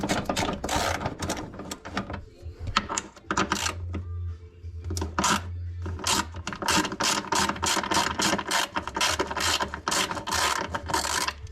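Ratchet wrench loosening bolts under the tunnel of a 1997 Polaris XCR snowmobile, with close, loud bursts of rapid clicking repeating in steady runs and a short pause partway through, with no talking.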